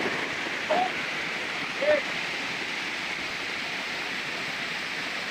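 Waterfall water rushing at the second level of a falls in Quezon Province, a steady broad roar filling the scene throughout, with two brief faint vocal sounds over it.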